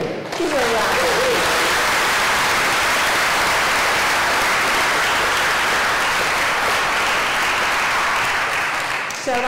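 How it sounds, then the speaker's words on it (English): A church congregation at a Sunday morning service claps together in loud, dense applause that starts almost at once and holds steady for about nine seconds before fading. "Give a round of applause."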